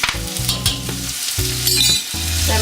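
A spoon stirs tomato sauce into a simmering pot of Italian tomato soup, with continuous sizzling and bubbling plus several scraping strokes against the pan, close and fairly loud with no voices.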